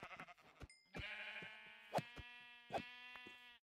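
Sheep bleating in Minecraft with the Dalek mod: several wavering, harmonic bleats in close succession, fairly loud and near, with no talk over them.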